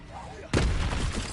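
A fire spell cast in Hogwarts Legacy bursts in as a sudden loud whooshing blast, roaring on for about a second after a quieter lead-in.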